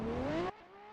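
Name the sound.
Ferrari drift car engine revving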